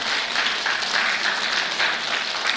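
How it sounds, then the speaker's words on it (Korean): A church congregation applauds during a Sunday worship service, a steady, dense wash of many hands clapping together, fairly close and unbroken for the whole stretch, with no voices standing out. "박수 한번 드리겠습니다"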